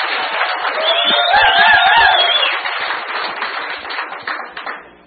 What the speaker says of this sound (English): You spent it all on applause